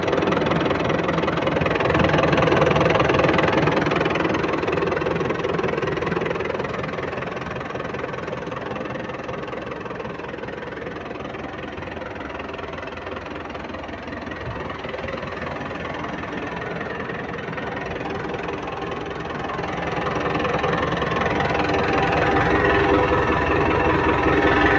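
A tractor engine runs steadily for the whole stretch, a continuous broadband rumble that dips a little in the middle and swells again near the end, close by with no talk over it.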